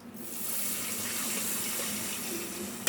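Water pours steadily into a cooking pan for jaggery syrup, a continuous close splashing gush that runs for nearly three seconds with no talking.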